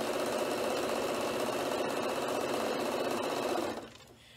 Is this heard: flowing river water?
no